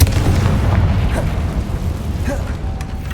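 A Confringo fire spell explodes in Hogwarts Legacy, a loud deep booming blast with a rumbling tail that fades over a few seconds, alone without talk.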